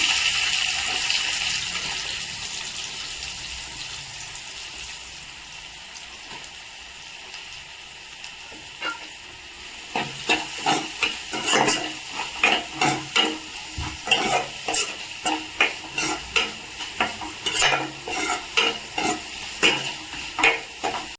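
Onions frying in oil in a pan while making aloo curry, with a hiss that grows into steady sizzling and repeated sharp scraping stirs from about halfway through, close and fairly loud, with no talking.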